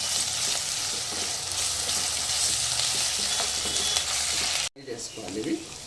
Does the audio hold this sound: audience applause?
no